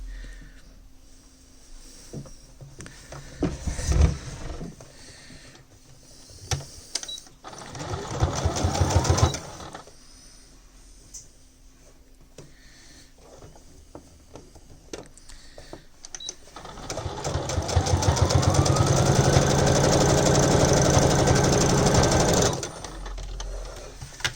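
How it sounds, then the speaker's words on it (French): A sewing machine stitches a seam close to the edge of fabric while making a small tab for a bag organizer, running in two bursts: a short run, then a longer sustained whir near the end. "je vais faire une couture près du bord ici"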